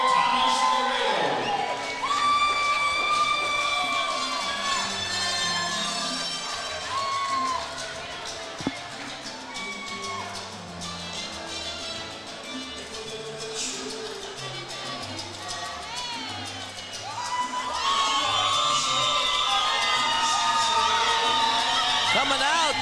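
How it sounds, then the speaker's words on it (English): A crowd at a mixed martial arts fight night roars and cheers continuously while music plays over it, a loud, dense wash that surges again near the end as a fighter walks out, with voices mixed in. "Coming out to the cheers of the crowd, Hollywood Thomas Laredo"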